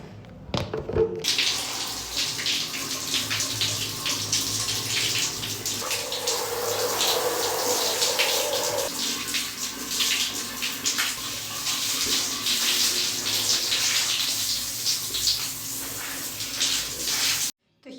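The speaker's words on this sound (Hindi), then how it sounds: "अब हम शावर लेते हैं।" Shower water runs steadily in a bathroom, a continuous broad hiss of spray that stays close and fairly loud for nearly the whole stretch, with no voices over it.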